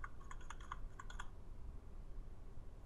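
Quick bursts of keystrokes on a computer keyboard as a new password is typed, several short clustered taps in the first second and a half, then quiet room hiss.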